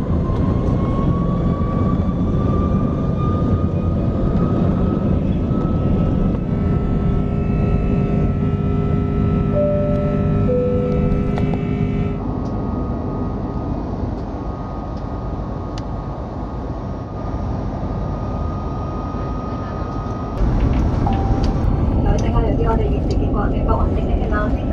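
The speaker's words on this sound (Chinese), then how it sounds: "好，系时候起飞啦！" Steady, loud engine roar fills the cabin of a Hong Kong Airlines Airbus A330 business class during takeoff, with a rising whine and a brief surge in power near the end.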